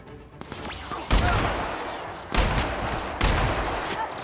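Gunfire in The Outer Worlds, a video game: three heavy bursts of shots about a second apart, each loud and reverberant, with fainter crackling between them.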